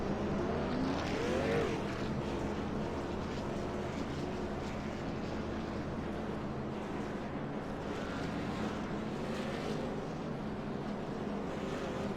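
Race cars droning around a track behind a pace car under caution, a steady low engine rumble with occasional passing swells, heard from a distance.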